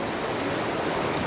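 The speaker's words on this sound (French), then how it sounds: "les eaux tumultueuses de l'Eisbar offrent même des vagues d'entraînement aux surfeurs" The Eisbach river in Munich's Englischer Garten, with its surfable standing wave, rushes past in a dense, continuous roar of turbulent water, close and steady.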